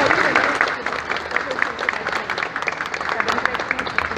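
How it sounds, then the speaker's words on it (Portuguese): A crowd at a municipal guard police dog kennel team demonstration at the Cabreúva railway station claps steadily and densely throughout, with voices talking over the applause. "Ele é uma salva de palmas para o Iron."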